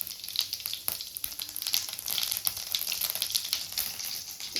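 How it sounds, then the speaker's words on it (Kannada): Cumin seeds, added with mustard seeds to hot oil in a frying pan while making egg bhurji, sizzle loudly and steadily with crackling pops, close up and with no talking. "ಹಾಗೆ ಸ್ವಲ್ಪ ಜೀರಿಗೆ ಕೂಡ ಹಾಕೋತಾ ಇದ್ದೀನಿ"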